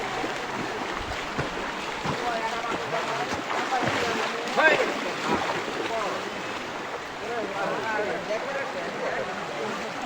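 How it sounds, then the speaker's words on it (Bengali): Floodwater rushes steadily out of a submerged house beside a flooded village road, a continuous wash of flowing water with people talking nearby over it. "তার বাড়ি তলিয়ে পানি বাইর হয়ে আসছে"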